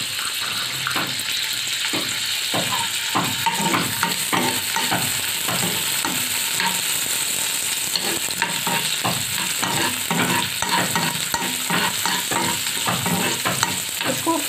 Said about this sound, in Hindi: सबसे पहले हम अपने जो ड्राई फ्रूट्स हैं उनको फ्राई करेंगे, जो जो लेना है।